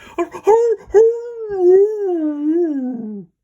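A human voice imitates a dog's pleading howl, a long wavering whine that slides downward at the end, preceded by a few short yelps.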